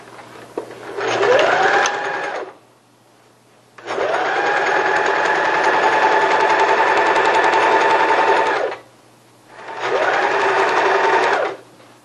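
A sewing machine stitches curtain fabric panels together in three loud, close runs, a rapid steady whirring and clatter that ramps up, holds, then stops, with short quiet pauses between.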